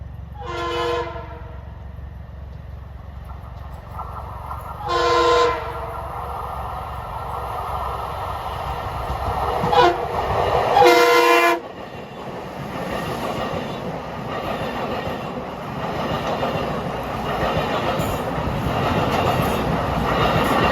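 Long Island Rail Road M3 commuter train deadheading westbound on the Ronkonkoma line, with several horn blasts at intervals before the train rumbles past, its rolling roar building and lingering to the end.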